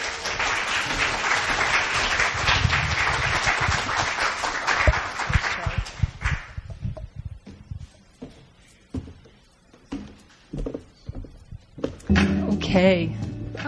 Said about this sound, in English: Let's have a warm round of applause for Sharon.